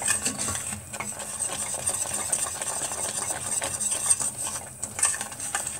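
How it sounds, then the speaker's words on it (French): A caramel and cream mixture is stirred in a pan, a continuous close scraping and swishing with small utensil clicks and faint bubbling, no voices. "il va bien mélanger. Il va y avoir un bon mélange de caramel et crème"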